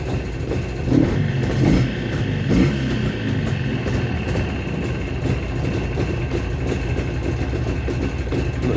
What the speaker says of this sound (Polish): Jest zimny silnik, dlatego tak jeszcze obroty troszkę, troszkę falują.